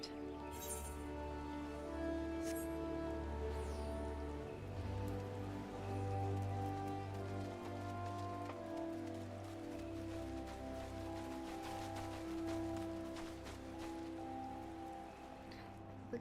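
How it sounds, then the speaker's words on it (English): Steady rainfall in Final Fantasy XIV's Gridania, a continuous hiss of drops pattering on surfaces beneath sustained game music, with no talking. "Oh, it's raining."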